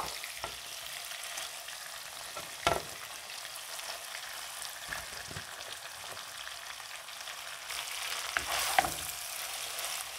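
Cut pieces of roti fry in a pan with tomato sauce and soy sauce, giving a low continuous sizzle with a few sharp stirring knocks and scrapes, close and fairly quiet, with no talk.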